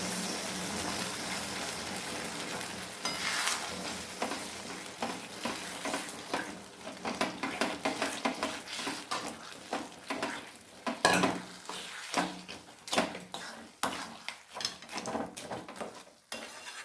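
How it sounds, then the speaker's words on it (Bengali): Soaked semolina is stirred continuously in a pan over a low flame, producing quiet, irregular scraping and soft sizzling strokes that come close together and grow busier toward the end, with no talk. "এবারে আমি সেই ভিজিয়ে রাখা সুজিটা এর মধ্যে দিয়ে দেব, দিয়ে সমানে এটাকে আমাকে নাড়িয়ে যেতে হবে।"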